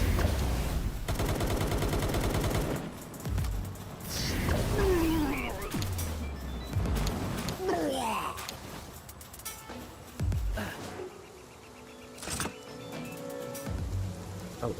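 Gunfire in the video game Palworld during a hunt for legendary creatures, bursts of rapid shots mixed with creature roars and cries, busy game sounds throughout with some quieter stretches.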